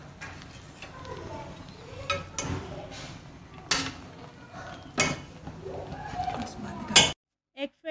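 Egg fried rice is served from the pan onto a dish: close clinks and scrapes of a utensil against metal and plate, a few sharper knocks spaced irregularly, with soft speech in the background.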